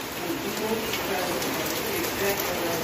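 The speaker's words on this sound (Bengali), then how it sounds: "কেমন কীভাবে বৃষ্টি পড়ছে" Heavy rain pours down steadily outdoors, with water pooling on the street, producing an even, dense hiss of falling drops that continues without a break.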